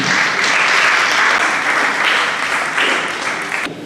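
A church congregation breaks into sustained applause after a Bible reading, dense and loud clapping from many hands that fills the room throughout and tapers slightly near the end.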